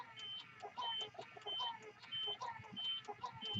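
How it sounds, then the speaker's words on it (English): The air pressure pump of a DTG M2 printer beeps faintly and repeatedly in an even rhythm of short high tones during a flush with X Engine, heard alone with no voices. "So you'll get the beeping from the air pressure pump,"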